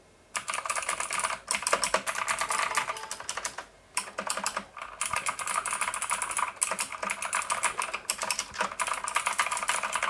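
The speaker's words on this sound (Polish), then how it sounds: "Są to przełączniki Optimu Blue, czyli posłuchajcie jak pracują." Fast, steady clicky typing on a Tracer Illuminato mechanical keyboard with Outemu Blue switches, loud and close, with crisp tactile clacks running continuously and only brief pauses.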